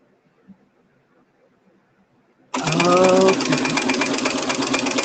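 A sewing machine stitching a quilted fabric tote starts abruptly after near silence and runs with a loud, steady mechanical whir; a voice speaks briefly over it.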